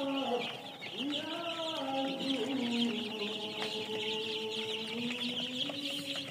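Chicks and hens in a poultry brooder make a busy mix of clucks, cackles and high chirps, overlapping nearby and continuing without pause, with faint voices in the background.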